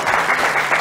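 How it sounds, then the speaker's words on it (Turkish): Studio audience applause greets a guest coming on stage, a brief burst of dense clapping from many hands, loud and close with no voices over it. "Ve huzurlarınıza, alkışlarımızla Mustafa'yı alıyoruz."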